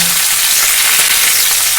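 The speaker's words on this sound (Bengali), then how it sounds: "কিছুক্ষণ কপিটা একটু ভাজা ভাজা হতে দেবো এবং মাঝে মাঝে নেড়ে দেবো।" Cauliflower florets fry in hot mustard oil in a pan, a loud, dense and steady sizzle heard up close with no voices.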